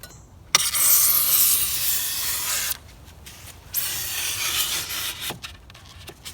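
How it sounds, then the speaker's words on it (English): A sharpened putty knife drawn through rigid foam insulation board: two long, close scraping, rasping strokes with a brief pause between them, the first loud and sustained, the second slightly softer, plus faint light knocks. "Next up, let's try the sharpened putty knife or taping knife."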